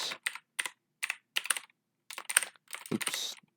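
Bursts of typing on a computer keyboard, several quick clusters of clacking keystrokes separated by short pauses, close and clear with no talk.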